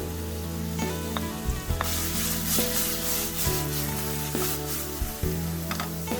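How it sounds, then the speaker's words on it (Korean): Shrimp and pollock roe stir-fried with softened onion and garlic in a hot pan, giving a steady loud sizzle with scraping stirs and occasional utensil taps throughout. "양파가 투명한 색이 되면 새우와 명란을 넣고 볶아줍니다."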